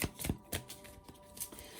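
Tarot cards being shuffled by hand, a quick run of crisp riffling bursts and soft slaps that repeat several times in close succession.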